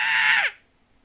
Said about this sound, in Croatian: Zaključao si ženu. I ona još vrišti